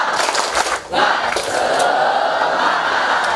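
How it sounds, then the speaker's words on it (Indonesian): Audience at an Indonesian youth literacy camp in Bangka doing the 'tepuk semangat' cheer, a loud burst of crowd clapping and collective shouting from a roomful of people, dipping briefly before surging into a sustained, energetic roar. "Oke, kita tepuk semangat dulu ya."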